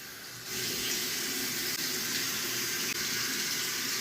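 Tap water runs steadily over a bar of soap, a close, continuous rushing splash that grows slightly stronger after the first half second and continues without talk.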